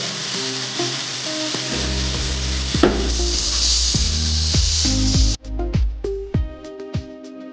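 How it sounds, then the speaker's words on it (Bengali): Loud, steady sizzling of chicken frying with spice paste, a spatula scraping and knocking against the pan every second or so, the sizzle briefly cutting out near the end. "মশলাটা দিয়ে দেওয়ার পর আবারও এটাকে খুব সুন্দরভাবে আমরা নাড়াচাড়া করে নেব"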